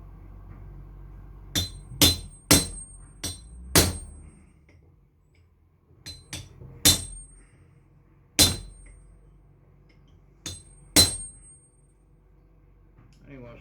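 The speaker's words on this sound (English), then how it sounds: "Smack with the chisel." Hammer striking a chisel to cut open an electrical transformer for copper recovery: a dozen sharp metallic clangs in uneven bursts, some in quick pairs, ringing briefly, with quiet talk between strikes.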